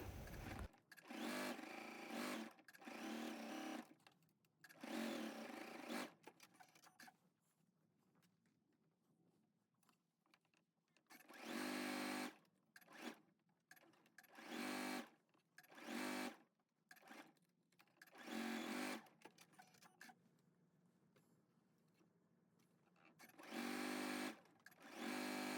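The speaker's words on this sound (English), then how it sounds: "you can sew a little bit off of the fabric just so that it locks it in versus having to do a manual knot with your hands" A sewing machine stitches darts on fabric in short bursts and longer runs, each burst a quick close mechanical whir, with quiet pauses between the stitching passes.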